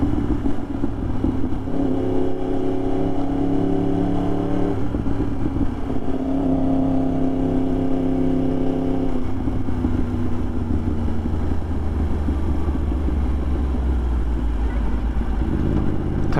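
A Yamaha R1 sport motorcycle engine pulls through rising gears while riding, loud and close, with two long climbing revs and a shift between them, then a steady cruising roar. Wind noise rides beneath it and no one speaks.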